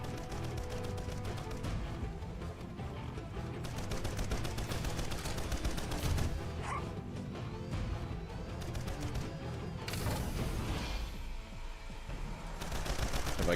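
Rapid turret gunfire in Earth Defense Force: Iron Rain, dense continuous bursts of shots with crashes and a brief lull near the end, loud and sustained with no talk.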